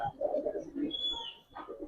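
Giribaz pigeons in a loft give a short run of close, low rolling coos, with no voices, a brief hush, then more burbling.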